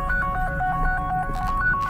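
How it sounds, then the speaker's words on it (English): A mobile phone ringtone announcing an incoming call, a repeating electronic melody of short pitched notes playing steadily and fairly close for about two seconds with no talk over it. "who was that calling my phone?"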